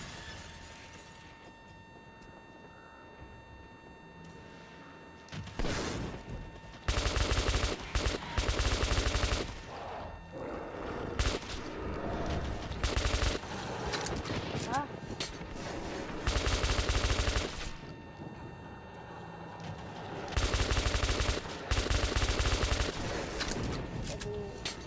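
Gunfire in the first-person shooter Metro 2033 Redux, a light weapon firing loud rapid bursts that repeat across the clip with short gaps, layered over a constant game ambience.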